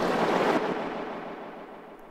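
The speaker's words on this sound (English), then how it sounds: "And then we also have one Atmo FX." An atmospheric effects sample from an Akai Force used in a techno track, a soft, washing noise swell that fades steadily over about two seconds, heard alone.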